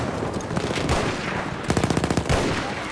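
A short, rapid burst of machine gun fire in Battlefield 1 during a Sinai Desert Conquest match, about a dozen evenly spaced shots in quick succession after some rumbling battlefield noise, with no voices.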